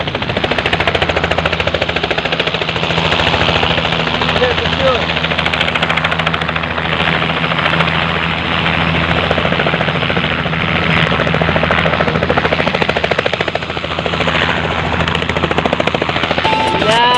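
Helicopter descending and landing nearby at a boarding spot, a loud continuous rotor and engine roar with rapid chopping pulses throughout, voices faintly audible underneath.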